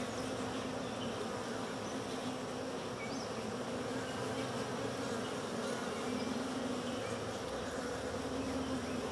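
Honey bees buzz steadily at a hive in July, forming a dense continuous drone with a few individual bees droning closer, quiet and even with no voices.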